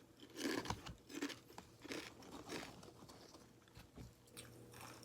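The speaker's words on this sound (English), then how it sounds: "Hawaiian chips right here, sweet. These are sweet, very good." Sweet Hawaiian chips being eaten close up, with several crisp crunching bites and chewing, some crinkling, quiet and without talk.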